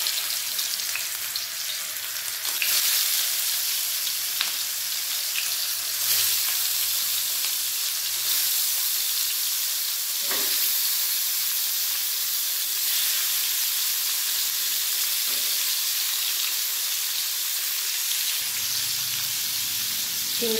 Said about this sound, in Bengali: তেল গরম হয়ে গেছে, মাছগুলো আমি দিয়ে দেবো।